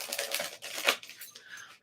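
Playing cards are shuffled by hand, a quick run of crisp riffling and flicking bursts, close and fairly soft, ending in a brief softer rustle.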